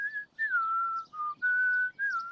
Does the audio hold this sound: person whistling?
yes